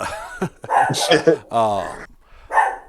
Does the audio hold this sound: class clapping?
no